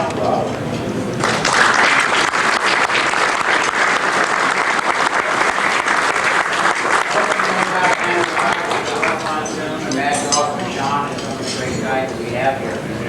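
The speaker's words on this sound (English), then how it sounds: "I think you give yourself a hand" A banquet room of nearly three hundred guests at a gathering of wrestlers and promoters breaks into loud, sustained applause, a dense roar of clapping close by that holds throughout, with whoops and voices mixed in.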